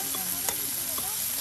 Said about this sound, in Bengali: ভালো ভাজা হচ্ছে হ্যাঁ